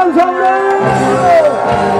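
At a Nexen Heroes versus Lotte Giants baseball game, a stadium crowd cheers and whoops as the game's star players walk out, with loud shouts and rising voices that are close and lively across the short burst.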